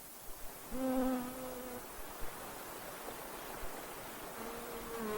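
Bees buzz in a soft, steady drone that rises for about a second, fades, then returns near the end, faint against quiet outdoor air in alpine scrub in the Teton Mountains.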